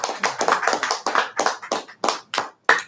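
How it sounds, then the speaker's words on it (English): A small group claps in short, uneven bursts, about a dozen sharp, close hand claps with brief gaps between them, loud and dry with no talking. "Give that a clap"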